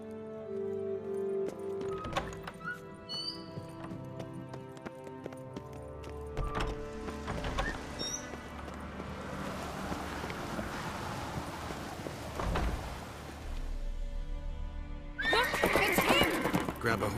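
A horse in The Witcher 3 gives a loud whinny while hooves clip-clop, set against game music, wind and people talking; a burst of louder activity comes near the end.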